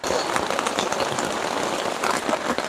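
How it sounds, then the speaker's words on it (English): Heavy rain pouring down outdoors, a dense, continuous hiss of drops striking surfaces, loud and steady throughout with no voices. "it is pouring outside here"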